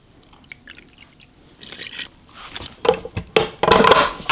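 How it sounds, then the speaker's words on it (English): Warm water is poured into a keto sourdough bread mix in a kitchen, starting as scattered soft drips, then splashing and sloshing louder in bursts toward the end. "Then we add our warm water."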